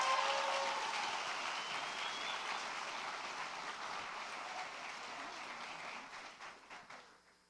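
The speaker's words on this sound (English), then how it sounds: "Please give a round of applause to Maya English." Audience applause at a high school senior awards night, a broad wash of clapping from a large crowd that starts full and gradually fades away over several seconds.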